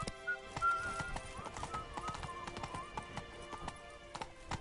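Roach the horse trots in The Witcher 3, a steady rhythmic clip-clop of hooves with a brief whinny near the start, moderately close, over faint background ambience.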